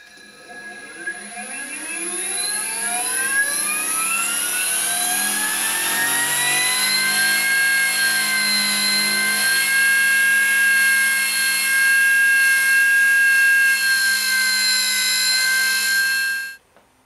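An EMRAX 228 electric motor driven by an SD100 controller on a dyno, coupled to a Siemens motor, spins up with a rising whine and settles into a loud, steady high-pitched tonal whir that runs alone for the full length before cutting off abruptly.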